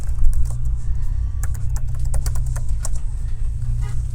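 Rapid keystrokes on a computer keyboard while a username and password are entered, close and clear, with irregular clusters of clicks over a steady low hum.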